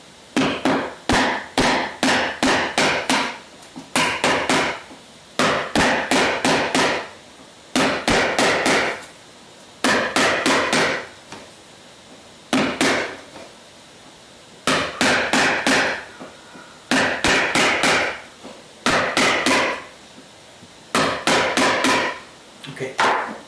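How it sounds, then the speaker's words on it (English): Hammer whacking an object, loud close strikes landing in rapid bursts of four to six blows, each burst separated by brief pauses, repeating steadily throughout. "this is now going to get a little bit noisy because I've got to whack this thing here"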